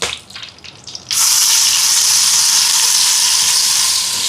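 Ground masala paste hits hot oil for soya biryani, starting with quieter cooking noises and then erupting into a loud, steady, continuous sizzle that fills the rest of the clip.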